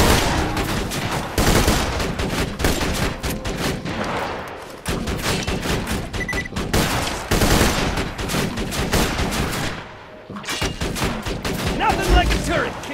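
Sustained turret gunfire in Borderlands 2, a PC shooter, rattling loudly in dense rapid bursts with brief pauses around five and ten seconds, plus faint voices in the mix.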